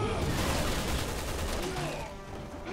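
Gunfire in the video game Resident Evil 6, a loud, rapid stream of shots forming a continuous burst that eases slightly at the end, with voices under it.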